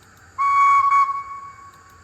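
A single short, shrill whistle blast from an Oxford Rail J26 model steam locomotive with DCC sound, steady in pitch, sounds loudly for about a second before tailing off.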